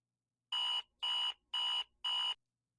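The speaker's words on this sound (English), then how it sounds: "I hate that the most effective alarms are the most annoying ones." Video game alarm clock rings in four evenly spaced electronic beeps, each shrill and buzzy with a short gap between, loud and alone against silence.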